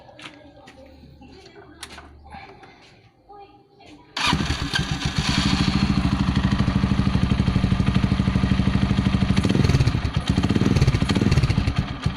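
A Gamma 200 motorcycle fitted with an Akrapovic carbon fiber muffler, DB killer removed, starts about four seconds in after some quiet handling noise. It then idles loud and close with a steady rough throb and a few brief blips of the throttle.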